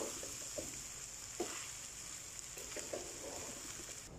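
Boiled rice being stirred through hot fat in a frying pan for saffron rice, a steady low sizzle with soft scraping strokes of the spoon at irregular intervals, close and moderately quiet, no voices.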